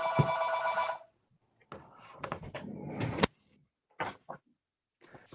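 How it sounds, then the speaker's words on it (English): A telephone bell rings loudly for about a second in a public meeting room, followed by rustling, thumps and brief movement noises. "Hold the phone."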